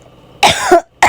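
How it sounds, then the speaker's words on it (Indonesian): A person coughs hard twice at close range after eating spicy sambal, a longer hacking burst followed by a short sharp one, in an otherwise quiet room. "Batuk lagi, maaf."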